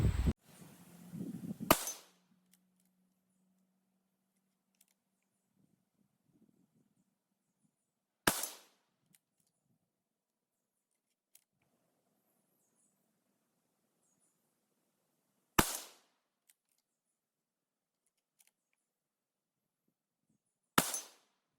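A 300 Blackout rifle fired at a shooting range: four sharp, loud single shots spaced several seconds apart, with near silence between them and a short burst of handling noise at the start.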